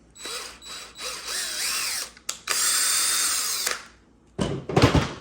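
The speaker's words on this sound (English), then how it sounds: "Grab the big drill, do the front." A large power drill bores into the front of a metal part for a 1/6 scale tracked bulldozer model, sounding as loud, close whining bursts that rise and stop, with a brief pause, then clattering handling noise.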